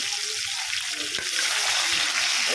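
Hyderabadi-style masala fish fry crackling in a hot pan, a steady close broadband sizzle that runs throughout, with a faint brief clink near the middle as the pieces are turned.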